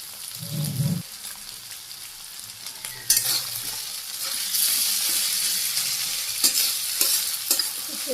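Garlic fries in a pan while being stirred, a continuous close sizzle that swells louder partway through, with scraping strokes of the spatula and a low thump early on, no speech.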